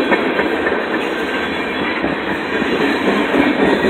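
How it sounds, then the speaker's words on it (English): A long train rolls steadily past on the rails near a bridge on a cold day, its loud, continuous rumble and rattling wagons filling the whole stretch without a break. "I wonder how long this train's gonna be."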